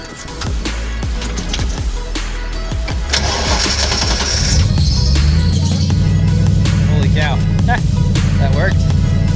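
A 301 cubic inch V8 engine fires up for the first time after a carburettor-to-EFI swap in a parking lot, cranking briefly, then catching and settling into a loud, steady, lumpy idle close by.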